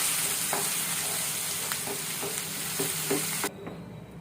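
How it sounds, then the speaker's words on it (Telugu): Tomato chutney is stirred into hot tempering oil in a pan after the stove is switched off, a steady close sizzle broken by spoon scrapes and knocks, then cutting off abruptly. "ఈ ఆయిల్ అంతా పచ్చడిలో కలిసేలాగా ఇలా ఒకసారి బాగా కలుపుకోవాలండి"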